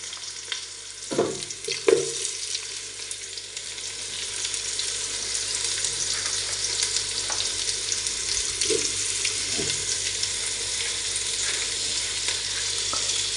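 Onions, tomato and cucumber pieces frying in peanut oil for a mutton curry give a continuous hissing sizzle, with a few knocks of a spoon near the start, close and without speech.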